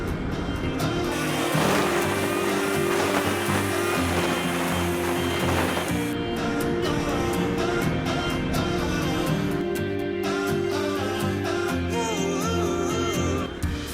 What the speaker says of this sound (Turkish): Motosikletin sesi o tuhaf geldi bana.